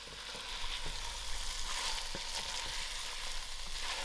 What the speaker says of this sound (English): These veggies have to fry out properly, especially the ginger.